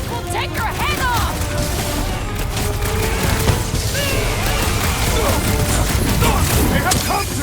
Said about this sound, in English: Those Nova core cannons will take your head off!